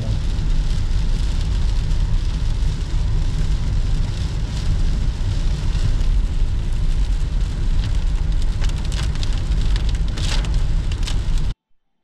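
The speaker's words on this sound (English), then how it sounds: "It's raining harder than it was earlier this morning." Heavy rain falls in a steady, dense roar of drops on surfaces, loud and continuous, and then cuts off abruptly at the end.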